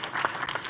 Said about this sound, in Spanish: Como moderador, un aplauso, por favor.